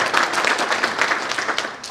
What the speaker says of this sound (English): I think we give him a clap.